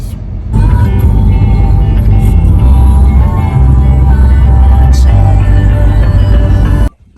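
A car drives along a road in Montenegro, a steady loud engine and tyre rumble heard from inside the vehicle, holding even throughout before dropping away abruptly at the end.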